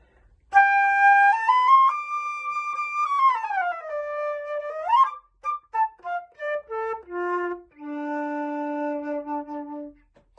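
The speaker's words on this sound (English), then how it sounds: "We blow across the hole, which is called the tone hole of the flute, to make a sound like this." A solo flute plays a long sustained note that bends and slides, then a quick descending run of short notes ending on a held low tone.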